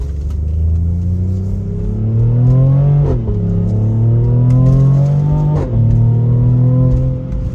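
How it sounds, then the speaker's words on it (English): Mercedes-AMG GLE 43 with a 3-litre V6 and AMG exhaust accelerating hard in manual mode, a loud, close, rising engine note broken by two quick upshifts that drop the pitch before it climbs again, with no talk. "as we put it into manual mode, out of this transmission, out of the engine and the AMG exhaust, I have to say, shift rates on this vehicle are fast."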